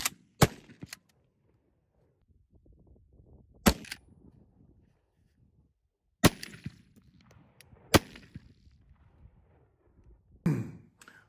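Heavy 1,093-grain Sxxks slugs fired from a 12 gauge shotgun: several sharp, loud blasts spaced a few seconds apart, each with a brief echoing tail, and quiet handling noise between shots.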